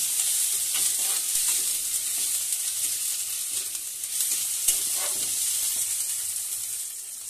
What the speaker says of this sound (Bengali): এরই এক পাশে দিয়ে ভালো করে ভেজে সবগুলো মশলা আবার ভালো করে ভেজে নিচ্ছি।